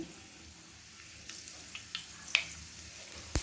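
Mustard seeds, lentils and fenugreek dropped into hot oil for a vegetarian fish-style curry, giving a faint, steady sizzle with small scattered pops and crackles.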